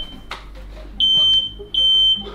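A fire alarm goes off with two loud, piercing electronic beeps in close succession over a low background rumble.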